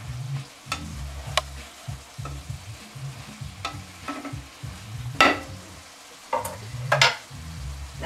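Cabbage and shiitake mushrooms being stirred in a pan: a soft sizzle under a low hum, with sharp scraping strokes from the spoon at irregular moments, close and mid-loud, with no voices.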